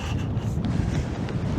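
Strong wind blows on a snowy mountain saddle on a winter ascent of Mangart, a steady loud roaring buffet hitting the microphone with no break through the whole short stretch.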